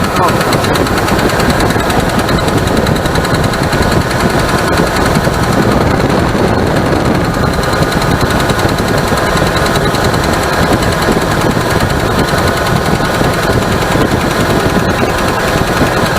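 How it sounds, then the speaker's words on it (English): A 1973 Ford Torino Sport V8 running at its first start after sitting, loud and close, with a rapid, even metallic lifter chatter and knocking over a constant rough engine roar throughout. "Well, we got a lifter chatter."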